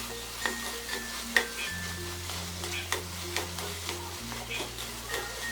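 Grated khoa being stirred into carrots in a pan for carrot halwa, with a soft sizzle under repeated spoon scrapes and light taps against the pan, close and steady.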